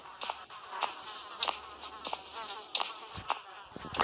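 A buzzing fly in a video game drones on and off in short bursts, with game sound effects and clicks popping in around it; no one speaks.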